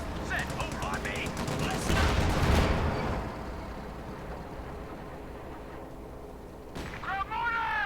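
Mortar barrage and gunfire in Company of Heroes 2, a dense run of crackling shots and booming impacts that swells around the middle, with voices shouting over the battle.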